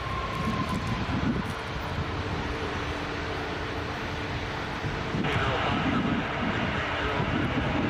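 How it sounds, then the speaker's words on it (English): A Qatar Airways Airbus A350-1000 jet roars steadily at Toronto Pearson airport, a broad loud engine rush that swells further near the end, with a voice speaking briefly over it. "We're about to get blocked by Qatar A350 1000"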